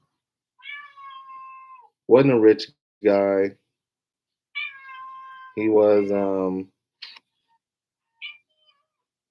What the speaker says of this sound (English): this cat's get on my nerves.